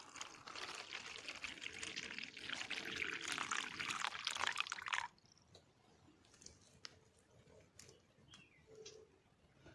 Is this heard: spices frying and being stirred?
no